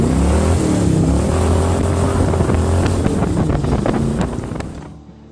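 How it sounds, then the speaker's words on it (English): A boat engine that sounds off drones steadily with wind buffeting the microphone, loud and close, then fades out at the end. "Not really liking the way the engine's sounding right now"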